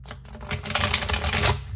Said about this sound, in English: Thanks for sticking with me through this shuffling.